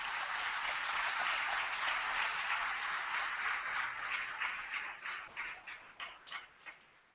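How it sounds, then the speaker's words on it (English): A conference audience honours a medical advisory board with soft, distant applause that holds steady, then thins into a few scattered, separate claps before stopping. "giving a round of applause to our medical advisory board"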